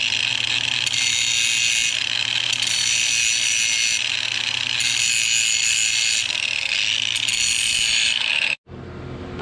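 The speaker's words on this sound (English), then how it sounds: "we're just gonna grind off a little bit right here so we can have a good clean weld." Angle grinder taking metal off a bracket on a 9-inch rear end under a third-generation Camaro, a loud continuous close whine with slight rises and falls that cuts off abruptly near the end. Nobody speaks.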